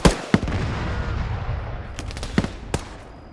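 Sharp gunshots in the ArmA 3 military simulation: a loud opening crack, then isolated reports scattered over a steady rumbling battlefield bed, with a few close bursts near the end.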